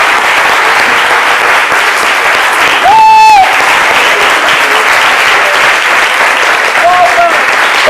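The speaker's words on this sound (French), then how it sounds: "vous allez donc me suivre sur les applaudissements du public de CMidi." Steady, loud applause from a television studio audience on a midday talk show, an unbroken wash of clapping with a few voices and a brief tonal whistle-like sound over it.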